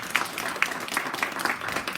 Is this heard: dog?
no